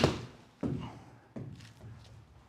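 A golf club strikes a TaylorMade Speedsoft budget golf ball three times in a row, each a dull, soft thump close by with a short fading tail, spaced roughly two-thirds of a second apart.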